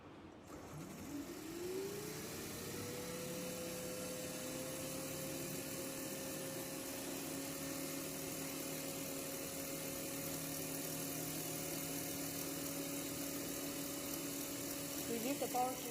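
A DC compound generator (short shunt) spins up on a 220 V supply, its steady electric whine rising in pitch over the first two seconds and then holding a constant hum throughout, loud and continuous.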